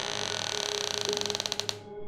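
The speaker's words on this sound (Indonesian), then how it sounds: "Suaranya terdengar seperti suara pintu terbuka." A door creaks open in a slow, strained groan that breaks into a run of ratcheting clicks spaced further and further apart, fairly close and alone, before it stops.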